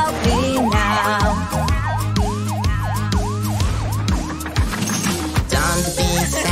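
A police car siren in a children's song wails in a rapid, repeating up-down pattern, loud and steady over bouncy backing music.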